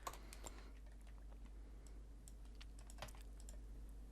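Keys clatter on a computer keyboard in a quiet room, a few soft, scattered taps at a slow, irregular pace, faint and close.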